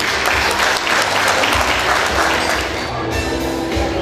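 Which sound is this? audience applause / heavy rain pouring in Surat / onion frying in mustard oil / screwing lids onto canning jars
audience applause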